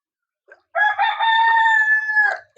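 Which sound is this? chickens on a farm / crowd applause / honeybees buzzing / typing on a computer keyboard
chickens on a farm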